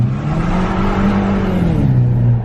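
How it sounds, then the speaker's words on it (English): A front-wheel drive Saab accelerates hard from close by, its engine note rising steadily and then dropping as the tires break traction, one loud sustained roar with no talk. "if you like roasting through your tires, is just being able to punch it"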